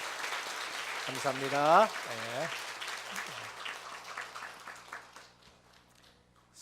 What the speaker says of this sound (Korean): 우리 격려하면서 박수로 환영하도록